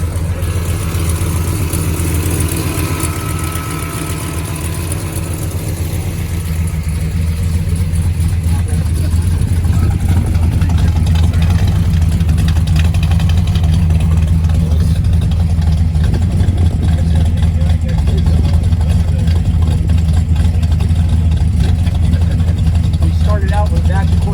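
A car engine idles steadily with a deep, rumbling low throb that continues throughout, with someone talking over it.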